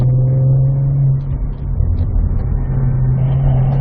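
Cadillac V-Series car engine pulling on a track, a steady loud close drone with a brief dip midway before the note rebuilds, no talking.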